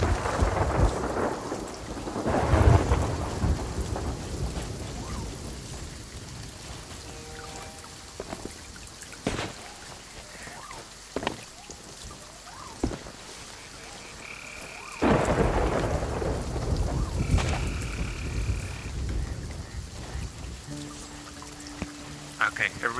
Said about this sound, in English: it's been raining for quite a while